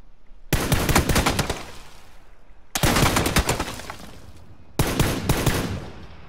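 Three rapid bursts of rifle fire from a 416 assault rifle in PlayerUnknown's Battlegrounds, loud and close, each a dense string of shots lasting about a second and a half, separated by brief pauses with no talking.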